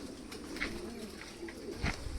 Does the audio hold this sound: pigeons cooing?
yes